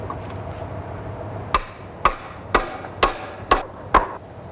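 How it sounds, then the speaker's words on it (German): A hammer drives wooden rungs into a wooden ladder rail, six sharp, evenly spaced knocks about half a second apart, close and clear over a faint background hum. "lassen sich die Sprossen mit dem Hammer bis zur vollen Dicke des Leiterholms hineintreiben"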